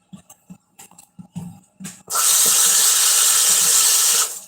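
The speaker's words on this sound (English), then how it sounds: "So with this, we're gonna wash this underneath water." Tap water gushes loudly and steadily over purple cabbage in a kitchen sink, a continuous broadband rush starting after a few soft handling knocks and running unbroken to the end.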